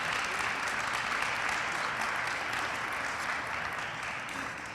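An audience at a college awards celebration applauds researchers and their mentors with dense, steady clapping that fills the room at a moderate level and eases slightly toward the end.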